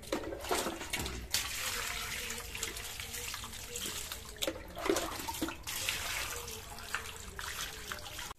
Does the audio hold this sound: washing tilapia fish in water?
yes